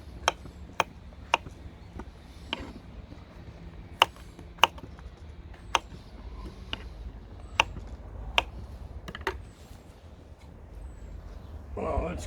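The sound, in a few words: cutting chicken into little pieces with a knife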